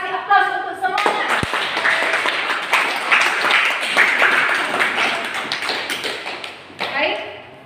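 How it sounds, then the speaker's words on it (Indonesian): Classroom audience applauds student groups after their presentations, a dense burst of clapping lasting several seconds, with a voice speaking just before it starts. "Kasih aplaus untuk semuanya"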